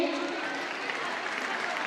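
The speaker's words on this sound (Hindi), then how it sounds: "तो जोरदार तालियों से आप उनका स्वागत करेंगे।" An audience applauds in welcome of the school head and committee members at a Lohri festival gathering at a girls' gurukul, a steady dense wash of clapping throughout.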